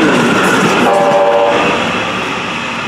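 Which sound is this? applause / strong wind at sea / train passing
train passing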